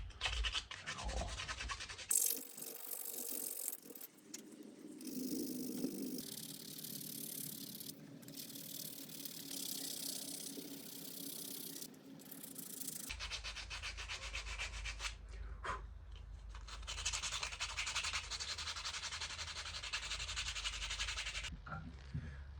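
A belt grinder fitted with a new 120-grit belt sands a hardwood chef knife handle, giving continuous close rasping and rubbing with shifts in pressure and brief pauses, with no talk over the grinding.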